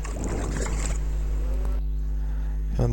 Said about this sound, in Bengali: আমরা নৌকা দিয়ে নদীতে নদীর থেকে চারপাশের ভিউটা নিতেছি